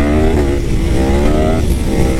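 Yamaha R1M sport motorcycle accelerating hard with quickshifter gear changes, a loud close engine howl with rising harmonics that briefly break and resume as gears shift, continuous and dominating throughout.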